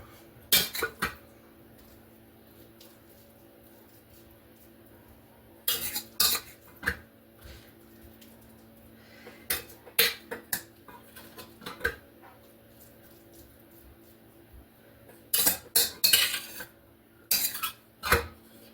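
Spinach being spooned into a quiche dish, bursts of close metallic spoon clinks and scrapes against the dish separated by quiet pauses over a low steady hum.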